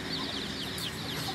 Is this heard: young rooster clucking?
yes